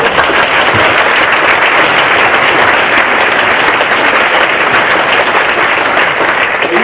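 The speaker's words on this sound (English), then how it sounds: "I know it's going to be a lot of round of applause." A large crowd applauding steadily and loudly throughout at a university political leaders' debate, a dense continuous wash of clapping with no pauses.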